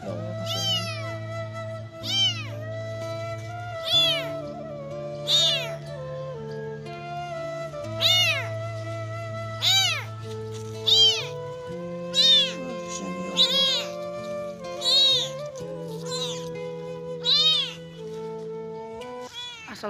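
Four hungry, weak kittens meowing one after another in high, rising cries, repeated every second or two, close by with no talking.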